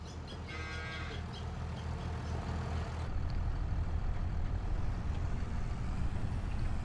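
Cows mooing with a low, drawn-out call in Farming Simulator 25, heard over a constant engine-like rumble from a vehicle, with no speech.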